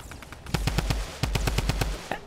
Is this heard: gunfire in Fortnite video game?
yes